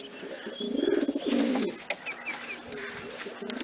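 Pigeons coo nearby in low, throaty, rolling phrases, two or three bursts, with some faint chirps and outdoor background noise.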